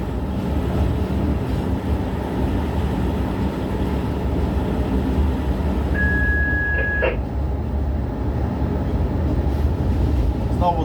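A locomotive runs steadily along a railway track, with a constant loud rumble throughout and a brief high tonal squeal partway through.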